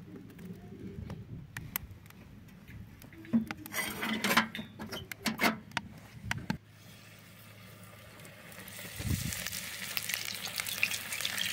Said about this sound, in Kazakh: Дайын тауық қанаттарын орташа отта қызарғанша 4-5 минут қуырамыз.